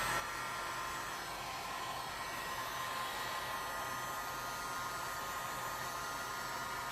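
A heat tool blows steadily on epoxy resin art set with real amethyst crystal, a constant loud hiss and whoosh of air running unbroken from start to finish with no voices.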